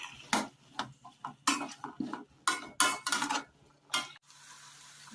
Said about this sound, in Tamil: மஞ்சள் சேர்த்துட்டு அப்படியே ஒரு 2 நிமிஷம் வதக்கி விட்டுடலாம்.